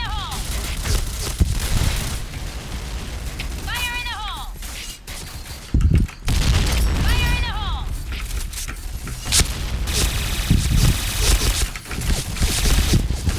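Rapid Kriss SV submachine gun fire in a Point Blank shooter game, dense bursts and crackling impacts running throughout, with short whistling effects and a heavy thud midway under a busy mix.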